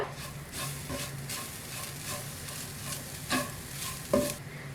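Grated coconut with a pinch of cardamom powder stirred and heated in a pan for ila ada, a continuous soft sizzle under repeated scraping strokes of the spoon, close by with no talk.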